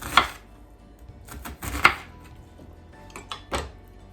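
Knife strikes on a cutting board as an onion is chopped, four or five sharp, close thuds spaced irregularly with quiet gaps between them, no voices.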